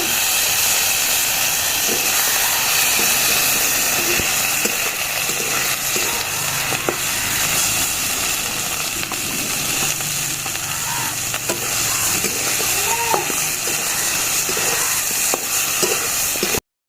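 Turmeric, garlic, ginger and cumin pastes sizzle with chicken in a pan for village-style lemon chicken, a loud, steady frying hiss running throughout with faint stirring clinks beneath.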